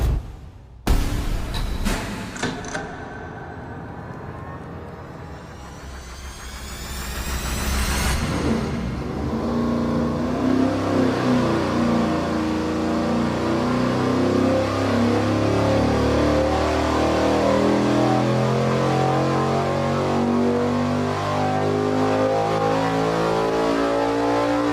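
A nitrous-injected V8 engine on a dyno revs up from idle into a long, loud, steady high-rpm roar that builds and holds near full power, heard close with no talk over it.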